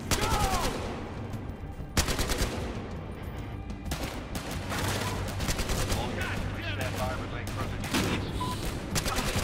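Battlefield Hardline campaign gunfire: dense bursts of rapid automatic shots and sharp single cracks, loud and continuous under a voice and the game's dialogue.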